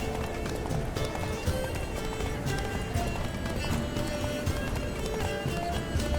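Horse hooves clip-clopping at a fast gallop in The Witcher 3 video game, a steady rapid rhythm of hoofbeats with an occasional whinny, continuous throughout over background game sound.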